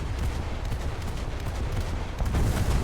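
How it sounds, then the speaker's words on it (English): A big cannon firing in the War Thunder video game, a dense, loud, continuous barrage of booming blasts with heavy low rumble, no talk over it. "I'm trying to get him with the big cannon."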